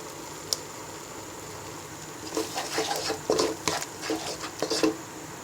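Pasta sauce, white sauce with tomato sauce, is stirred in a pan, with quick scraping and clinking of a spoon against metal in short bursts after a brief quiet spell.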